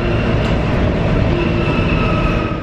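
Interior of a moving train car, a steady loud rumble of wheels and carriage noise with a faint high whine, continuous and close, no voices.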